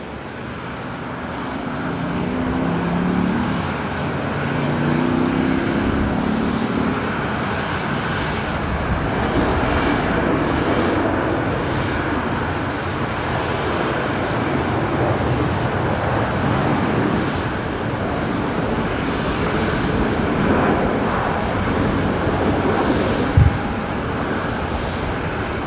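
Airliner arriving on runway 19 left at Brisbane Airport in the evening, heard as a steady, sustained engine roar that hangs at a fairly constant level for the full duration, with no talking.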